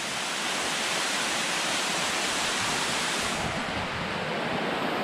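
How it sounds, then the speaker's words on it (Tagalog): Fikong Falls, a waterfall pouring over bare rock, fills everything with a dense, loud, unbroken roar of rushing water, heard up close and alone. "Maganda tingnan yung falls."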